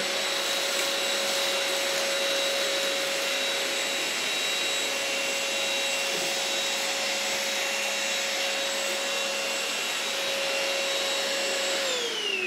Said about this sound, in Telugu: చాలా నీట్గా వాక్యూమ్ చేస్తుంది